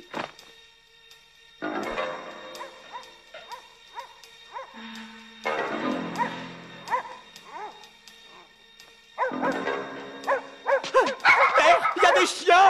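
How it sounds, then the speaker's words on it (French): Dogs bark, yip and whimper in a French-dubbed Jet Li film, in scattered bursts between pauses that grow busier and louder toward the end, mixed with talking. "Il y a des chiens!"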